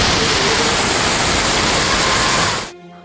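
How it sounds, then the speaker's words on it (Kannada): Steady loud rushing water from the Nagara waterfall, a dense continuous roar that cuts off abruptly near the end. "ಅಲ್ಲಿ ನೀರಿನ ಸೌಂಡು ಕೇಳಿಸ್ಕೊಂಡ್ರೆ ತಾನೇ ಎಷ್ಟು ಚೆನ್ನಾಗಿತ್ತು ಗೊತ್ತಾ"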